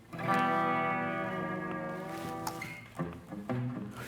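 A sustained electric guitar tone rings out through a delay effect, echoing repeats trailing behind it, followed by a few shorter plucked notes that also echo.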